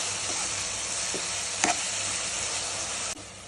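Gongura leaves cooking in a pan for a chana gongura curry give a steady, close frying sizzle, broken by one brief clink near the middle and a sudden drop in level just before the end.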